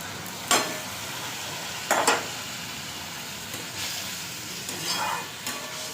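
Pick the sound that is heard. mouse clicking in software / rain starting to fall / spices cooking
spices cooking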